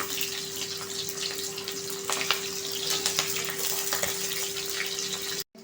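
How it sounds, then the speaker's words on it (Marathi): Onion petals fry in hot oil with a steady, dense sizzle that holds without a break for about five seconds before cutting off abruptly. "आपण कांद्याच्या ज्या पाकळ्या आहेत त्या थोड्याशा फ्राय करून घ्यायच्या आहेत"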